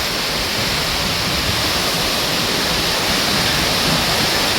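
A storm in Laos drives heavy rain and wind in a steady, dense roar that fills the whole clip without a break, loud and close, with no voices.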